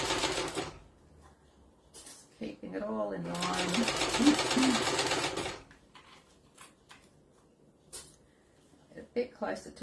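A sewing machine basting a book sleeve's pocket piece to its lining, right sides together, runs in one steady burst of a few seconds, up close, with talk before and after.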